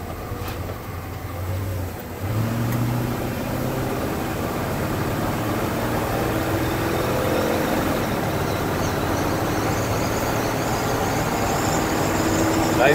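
A 1968 International Harvester engine pulls hard under full throttle, a steady loud drone that swells slightly as it climbs through a firm gear shift, with no talk over it.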